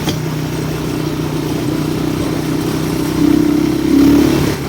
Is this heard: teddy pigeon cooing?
no